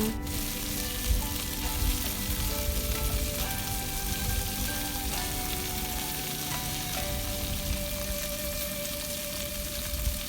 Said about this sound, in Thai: หมูสามชั้นของเราลงไปผัดเลยจ้ะ ผัด ไปผัดมาแล้วอย่า ลืม นะคะพลิกไปอีกด้านหนึ่ง